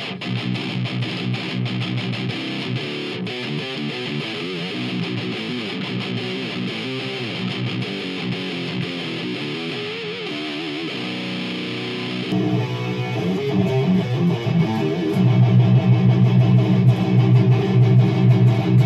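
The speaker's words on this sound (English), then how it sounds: "Out the metal zone. Gain cranked all the way," An electric guitar plays through a Dime D100 amp and a Metal Zone pedal with the gain cranked all the way, straight out of the head. The heavily distorted riffing is loud and dense, growing thicker and heavier partway through.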